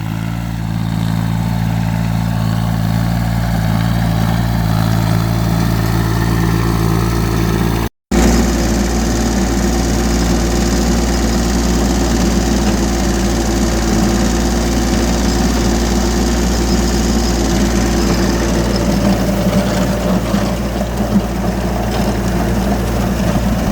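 A VST Shakti 225 tractor, 22 HP, runs with a rotavator at a steady constant rpm, a loud, continuous low engine drone and mechanical rumble close by, broken only by a brief cut.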